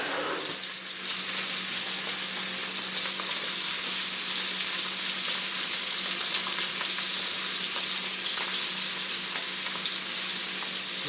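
Sausage and meat fry in a pan for an Italian Sunday dinner, giving a steady, close, bright sizzle that holds evenly throughout with faint stirring and no talk.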